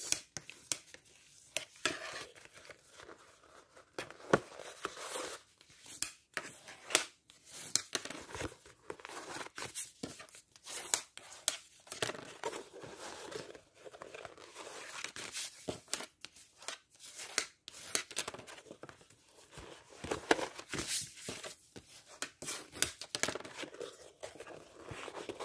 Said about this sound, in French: Donc, je le fais à l'envers. Hop. Je marque tous les plis.